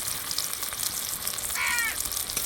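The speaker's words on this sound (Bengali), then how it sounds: "এখন আমি এই ফোড়নটাকে ভেজে নেব, লাল করে ভেজে নেব একটু।" Whole spices such as bay leaf and cumin frying in oil for tempering, a steady hiss and crackle throughout, with a crow cawing briefly in the background.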